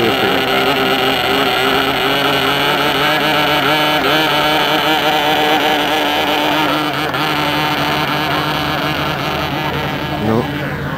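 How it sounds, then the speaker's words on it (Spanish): A model aircraft engine struggling with carburetion problems at a 1986 Spanish F3A aerobatics championship drones loud and continuous for the whole stretch, its buzzing pitch wavering slightly, steady and close with no clear talk. "Sigue el motor con problemas de carburación."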